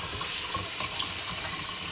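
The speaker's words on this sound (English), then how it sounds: "So first thing we're going to do, rinse that rice." A whole bag of rice is rinsed under a running kitchen tap, a steady close gush of water splashing into a sink with faint swishing underneath and no talking.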